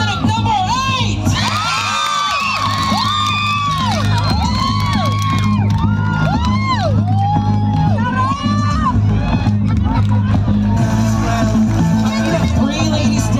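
A crowd at a Ms. Gay pageant at the Pili Festival cheers loudly, with repeated high rising whoops and shrieks over constant crowd noise.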